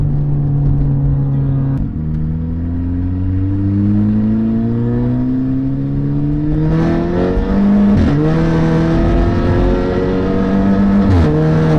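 A tuned VW R400 engine drones and climbs in pitch through the gears, its rough, raspy, unrefined tone rising steadily with a few sharp shifts.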